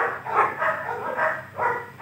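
A dog barks defensively in a short series of four or five loud, close barks with brief pauses between them.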